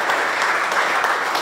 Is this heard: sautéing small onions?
no